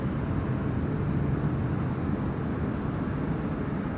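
A TUI Boeing 737 Max 8 at Amsterdam Schiphol Airport gives a distant, steady jet roar, broadband and fairly faint, holding level for several seconds with no voices.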